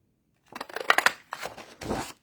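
Scissors cutting out a piece of card, several short crisp snips in quick succession, then two longer slicing cuts, close and quiet with no talking.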